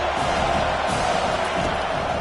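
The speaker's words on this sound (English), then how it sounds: "Decibels rising as the crowd gets behind this defense on third down" Football stadium crowd roaring steadily for the home defense on a third down in a college game, a dense, continuous wall of cheering with no clear breaks.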